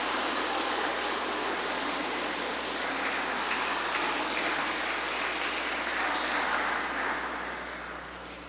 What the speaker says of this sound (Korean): 이렇게 하면서 박수 쳐보세요.